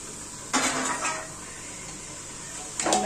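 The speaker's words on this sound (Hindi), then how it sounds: "मैं चावल को चलाऊंगी थोड़ा इसमें, चावल भी थोड़ा बन जाए, एक साथ मिक्स हो जाए सब्जी चावल" A spoon stirs washed rice and vegetables together in a cooking pot for a raw-peanut pulao, giving two brief scraping, clattering bursts, one longer and one at the very end, against a quiet background.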